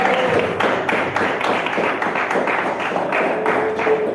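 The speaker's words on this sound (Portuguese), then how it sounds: "Receber nossa irmã Angélica, as palmas alegres de Jesus" A church congregation at a worship service claps joyfully and steadily in a regular beat, the rhythmic claps filling the room at moderate loudness with no speech over them.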